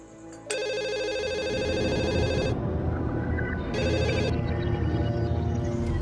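A telephone rings in an Indonesian TV drama: two loud electronic ringing bursts, a long one then a shorter one, over a low background hum.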